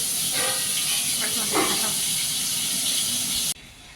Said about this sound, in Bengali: এখন সকালে খাওয়ার জন্য বেগুনটা ভাজছে